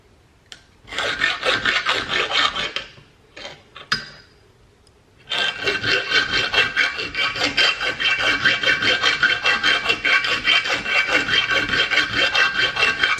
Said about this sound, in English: So you can see I've been filing on this for a while and the threads are pretty close to gone